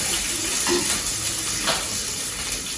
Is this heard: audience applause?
no